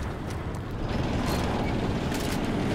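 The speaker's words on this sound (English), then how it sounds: "That's the sound of the tank? That sounds terrifying." A deep, heavy tank engine rumble with grinding mechanical noise, loud and steady throughout, in Call of Duty 4: Modern Warfare Remastered.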